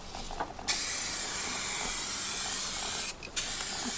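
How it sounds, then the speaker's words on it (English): A rattle can of clear coat sprays into a car engine bay in a driveway, a loud continuous hiss that cuts out briefly near the start and again near the end before resuming. "we got the second can of clear coat here"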